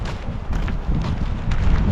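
Steady wind buffets the microphone, a low, rough rumble that swells in gusts throughout the short stretch.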